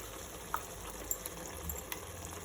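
Kadaknath chicken curry simmering in gravy in a pot, a soft continuous bubbling with occasional small pops and clicks, quiet and close, with no talk.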